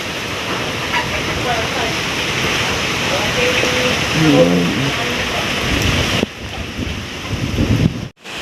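Heavy rain and gusty wind from Typhoon Aghon under signal no. 3 roar as a loud, constant wash, with rumbling wind buffeting and a brief drop-out near the end.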